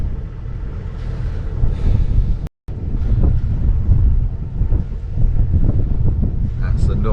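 Wind gusting at the mouth of a sailing channel while under sail off an anchorage, a steady broadband roar buffeting the microphone throughout, with a brief dropout near the middle.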